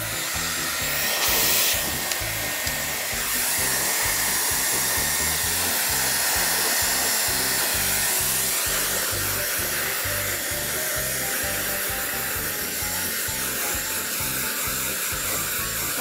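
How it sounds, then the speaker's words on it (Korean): A Dyson Airwrap blow-drying short hair gives a steady, loud airflow whoosh that holds for the full length, close and unbroken, with no talking. "일단 머리를 말려줄게요."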